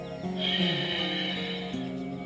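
A long, breathy ujjayi pranayama throat exhale with a soft hissing, slightly voiced tone, steady and close, fading gently near the end.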